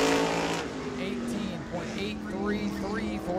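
Race car circling the New Smyrna track during World Series qualifying, engine droning steadily at mid distance with rising and falling pitch as it runs down the back straightaway, under a commentator's voice.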